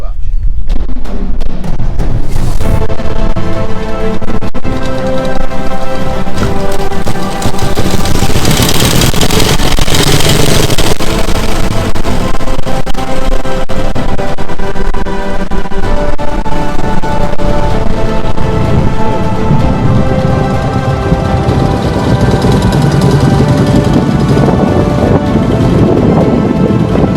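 A 1927 Douglas works race motorcycle engine runs loud and close with a harsh, rapid, popping exhaust note, revving and holding under buffeting wind noise, with no clear talk over it.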